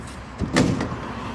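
Door on a 24-foot pontoon party barge swinging shut, one short solid thump with a brief rattle, close and clear against a quiet background.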